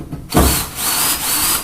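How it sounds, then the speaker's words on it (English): Drill driver driving screws into a Master Lock U-lock bracket on a pickup truck bed, one short close whirring burst that starts abruptly and holds a steady motor whine. "You can speed the process by using a drill driver like I am today."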